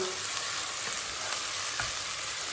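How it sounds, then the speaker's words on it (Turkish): Steady sizzling of tomato paste frying in a pot and starting to stick to the bottom, a continuous crackling hiss with a few faint scrapes, no voices. "Arkadaşlar salçamız iyice kavruldu. Tencerenin dibine yapışmaya başladı."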